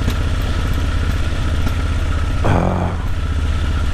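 A motorcycle rides through the town of Rheinberg, its engine droning steadily and loud up close with a rough low rumble, a brief surge of clattering noise partway through, no talking.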